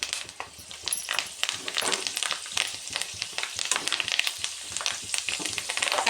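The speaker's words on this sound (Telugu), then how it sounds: "చూడండి గాయ్స్, చికెన్ ఎలా ఉడుకుతుందో" Chicken pakora frying in hot oil in a pan, a loud, close, continuous sizzle and crackle with occasional stirring scrapes and no talking.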